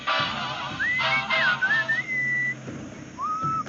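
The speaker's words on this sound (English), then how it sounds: "What is that enchanting whistling sound?" A melodic whistled tune from the Sam and Max game, wavering up and down in clear sustained notes, loud and close, with a brief pause before a final rising note.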